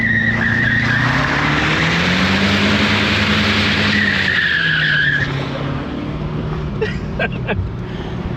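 Tires on a 1974 Ford Ranchero with a 351 Cleveland V8 squeal loudly as the engine is gassed against the brake, a sustained shriek over the rumbling motor that fades out.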